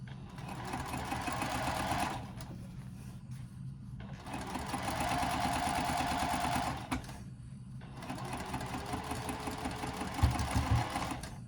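A sewing machine stitches a fabric wristlet clutch in three steady, buzzing runs separated by short pauses, close and alone, with a faint clunk near the end.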